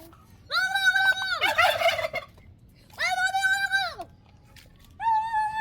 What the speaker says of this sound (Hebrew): יש כאן תרנגולי הודו וטווסים